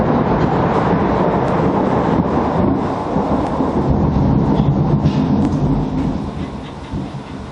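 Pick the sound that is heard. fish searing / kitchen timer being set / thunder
thunder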